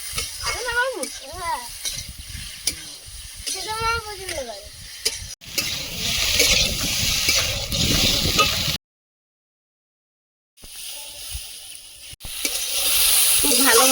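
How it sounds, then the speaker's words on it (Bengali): Potatoes fry and sizzle in oil for a potato dal while a utensil stirs and scrapes the pan. A voice talks over the start, and a short silent gap falls before the sizzling resumes. "এরকম ভালোভাবে ভাজা না হলে আলুর ডাল টেস্ট হয় না"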